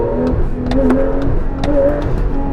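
Porsche 911 Carrera GTS engine blipping on the throttle, a loud, close rev with rising and falling harmonic tones and a couple of sharp crackles over a steady rumble.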